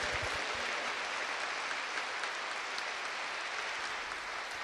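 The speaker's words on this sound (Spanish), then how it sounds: "Un aplauso fuerte, fuerte, lo más fuerte que puedan." A Mass congregation claps loudly and continuously, a thick, sustained roar of many hands applauding at full strength with no break, packed and close.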